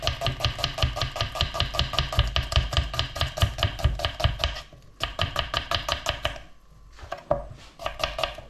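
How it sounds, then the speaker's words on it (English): A large knife slicing an onion on a board, rapid loud close chopping strokes in a steady rhythm, pausing briefly near the end before a few more cuts. "Found the biggest knife. Going to get rid of this layer. Just going to slice this onion."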